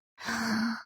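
A child's drawn-out yawn at home, a single voiced breath rising and sustained for most of a second at close range, alone without talk.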